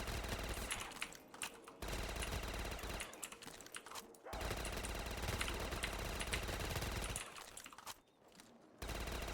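Automatic weapon fire in a Call of Duty Black Ops 3 zombies custom map, long sustained bursts of rapid shots broken by short pauses, loud and close throughout.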